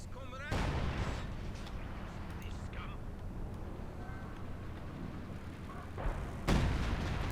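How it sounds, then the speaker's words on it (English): An artillery barrage in the strategy game Company of Heroes 2, with heavy shell impacts booming near the start and end over a continuous rumbling battle din, while a commentator talks throughout. "That last barrage did quite a lot of damage."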